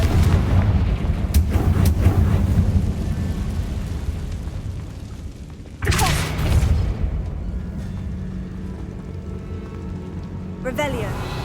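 A Confringo blasting spell going off in the Hogwarts Legacy video game: a heavy, booming explosion at around six seconds, followed by a rumbling tail under game music and ambience, with a sharper crackle near the end.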